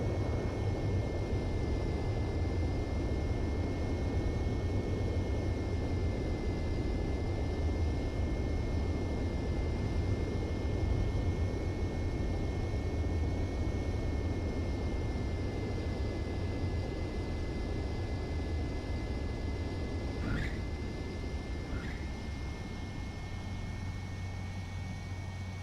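Jet fighter engine on a landing approach in the Ace Combat 7 flight game, a steady loud roar with a constant high whine running throughout, broken only by a couple of brief chirps near the end.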